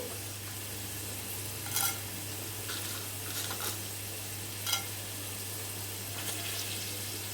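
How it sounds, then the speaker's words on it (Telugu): Mustard seeds and chana dal frying in oil for a ridge gourd curry, a steady soft sizzle with a low hum beneath and a few brief crackles and stirring clinks, close and without talk. "ఇవి ఒక 5 నిమిషాలు వేయించుకోవాలి"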